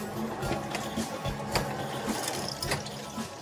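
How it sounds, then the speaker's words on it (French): A pedal-powered low-tech drill whirs and clicks with a steady mechanical ratcheting rhythm, gears turning continuously at close range with no talk over it, in a makeshift workshop aboard a boat setting in Agadir, Morocco. "découvrir notre perceuse low-tech que j'adore. Donc pour alimenter ça, il suffit de pédaler."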